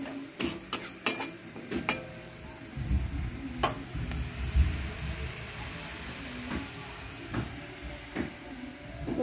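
Chopped onion and garlic fry in a pan with a soft sizzle. A utensil clinks and scrapes against the pan in bursts at the start, and the quieter stirring continues after that.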